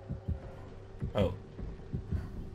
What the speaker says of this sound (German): Da ist ein Puls.